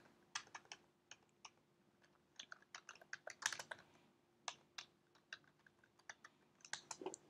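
Quiet, close clicks of typing on a computer keyboard come in irregular bursts of keystrokes, with short pauses between them and no voices.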